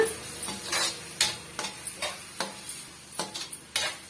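Raw banana pieces stirred into a curry mixture in a pan give a series of close, sharp scrapes and clinks of a spoon against metal, repeated in an irregular rhythm over a faint sizzle.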